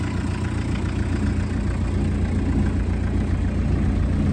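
Diesel engine of a 1981 Volkswagen Rabbit pickup truck running at a steady idle, a continuous low rumble with a dense, even clatter throughout, close and loud with no voices.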